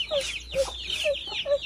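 A chicken near a laundry area clucks in a close, clear series of about five short calls at a steady, slightly uneven rhythm, with no talk over them.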